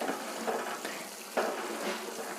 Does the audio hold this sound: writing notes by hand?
no